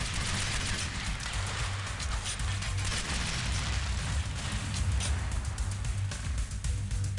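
Continuous dense gunfire from Delta Force: Black Hawk Down rattles steadily, a loud crackling barrage of overlapping shots with no pause.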